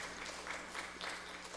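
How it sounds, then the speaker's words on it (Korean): Applause from a church congregation during a Sunday worship service, a dense, steady wash of clapping that stays fairly soft and distant across the short stretch. "다 박수로 하나님 앞에 영광 올리겠습니다."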